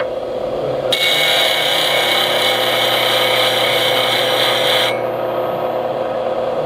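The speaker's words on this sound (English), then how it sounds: "An interesting grinder." Bench grinder sharpening a lathe turning tool, a steady loud whine with a harsh grinding rasp for about four seconds as steel meets the wheel, then the motor running on alone.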